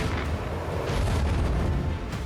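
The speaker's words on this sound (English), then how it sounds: "Macro cannon, volley!" Macro cannon volley firing in Warhammer 40K: Rogue Trader, a dense, continuous roar of heavy booms and rumbling blasts layered together throughout.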